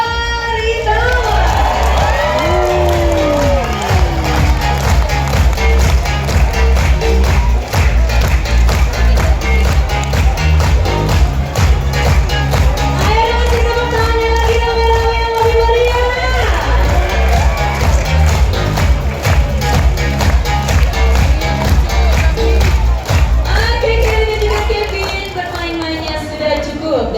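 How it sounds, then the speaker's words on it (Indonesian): Audience at a live show with a tiger cowboy act claps together in a steady rhythmic beat throughout, loud and sustained, over music with voices shouting and calling out on top. "Tepuk tangan bersama"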